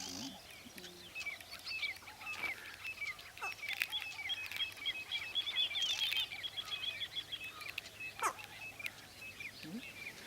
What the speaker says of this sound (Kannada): ಇಷ್ಟೊಂದು ಪಕ್ಷಿ ಇವೆ